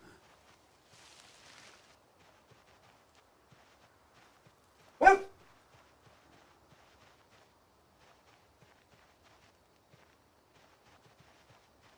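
A pet dog gives a single sharp, loud bark indoors, standing out against an otherwise quiet room with only faint background noise.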